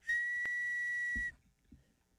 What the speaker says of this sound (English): Oh, she got a weenie whistle.